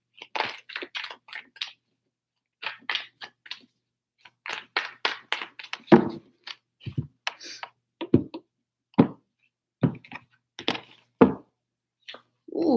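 Tarot cards shuffled by hand in three bursts, soft riffling flutters and taps followed by sharper single knocks as the deck is squared on a table, close and fairly quiet.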